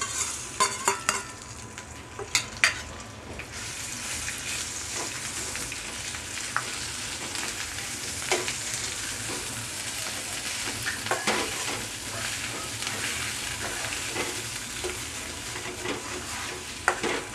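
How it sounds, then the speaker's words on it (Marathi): Spice masala sizzles in hot oil for chicken sukka, with a steady frying hiss and scattered sharp clicks of a spoon stirring against the pan, a few louder scrapes near the start. "तेल तापत ठेवले मी, आता यामध्ये हा मसाला घालून घेऊया।"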